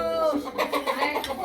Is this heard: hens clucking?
yes